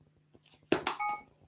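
A phone gives a few faint, quiet beeps and clicks as its call, sound and alarm volumes are turned down, with light handling noise and no talk.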